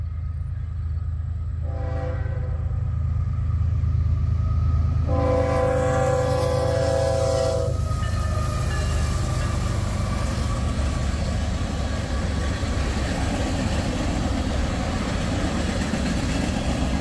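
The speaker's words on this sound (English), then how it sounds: "got train 309 coming, westbounder" Heavy rumbling of a westbound freight train passing, with two horn blasts early on over the constant roar of wheels and cars rolling by.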